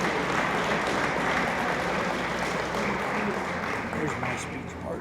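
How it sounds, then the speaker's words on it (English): Banquet audience applauding Quilts of Valor recipients at a Disabled American Veterans 100th anniversary dinner, a dense steady wash of many hands clapping throughout, easing slightly toward the end. "I'd like a big round of applause to everyone that received their Quilts of Valor."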